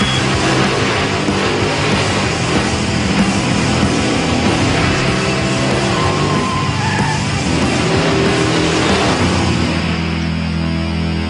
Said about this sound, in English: To test the car's performance, Jimmy runs each team's ride through a slalom and drag course